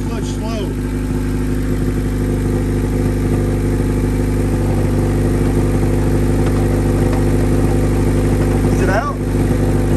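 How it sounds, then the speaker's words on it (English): A Honda Civic engine runs in first gear as the clutch is slowly let out after the transmission was reinstalled, giving a steady, close mechanical drone that holds level throughout with only a slight change near the end. "First gear and let out the clutch slow."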